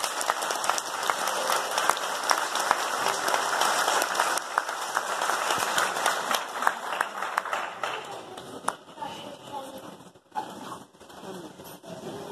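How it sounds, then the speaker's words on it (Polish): A charity concert audience applauds to welcome a performer onto the stage, dense sustained clapping that rolls on for several seconds before thinning out into scattered claps. "Zaprośmy ją na scenę oklaskami."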